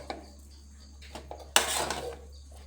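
A spatula stirring a parotta dish in a pan: a few light taps and scrapes, then a sudden louder burst of scraping and rattling against the metal that tapers off.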